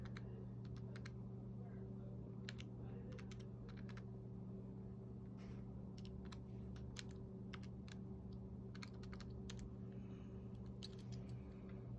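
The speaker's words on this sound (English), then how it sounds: "So I'm going to plug this in my calculator." Keys being pressed on a calculator during a photon number calculation, a string of quick light clicks in short bursts over a constant low electrical hum, faint and close.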